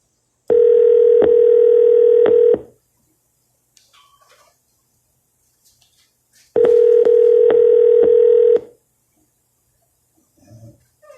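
Ringback on an outgoing telephone call: two loud, steady electronic ringing tones, each about two seconds long and separated by a roughly four-second silence, with only faint faraway background noises in between.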